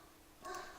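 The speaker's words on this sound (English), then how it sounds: "Excuse my dog in the background" A dog whimpers or yips faintly in the background of a room, a short quiet burst rising near the end.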